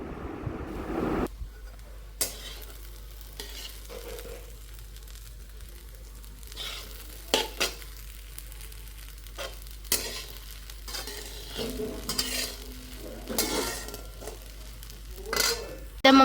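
Sabudana khichdi sizzles softly in a pan while a spoon scrapes and stirs in scattered, irregular strokes, with occasional louder clinks against the metal.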